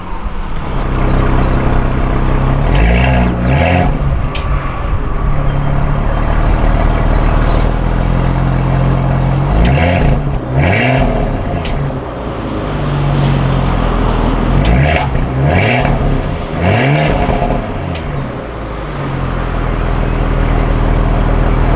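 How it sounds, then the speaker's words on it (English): Petrol engine of a 2018 Porsche Cayenne runs loud and close, with several quick revs rising and falling over a steady idle and no speech. "And then you have the lovely petrol engine that kicks in."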